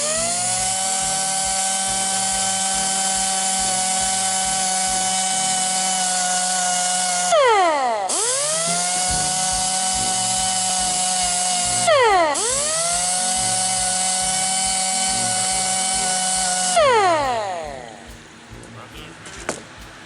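A high-pitched power tool with an abrasive disc whines steadily while polishing metal, its pitch dipping and recovering under load several times before it spins down near the end.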